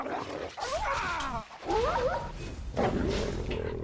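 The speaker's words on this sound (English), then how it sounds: "A blight wolf." A blight wolf in the video game Dragon Age Origins growls and snarls in three rough, rising-and-falling bursts, close and prominent against a low background of combat sounds.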